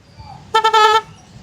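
A loud, high-sound aftermarket horn fitted on an auto rickshaw blares one sustained honk of about half a second, close and piercing, during a traffic police check.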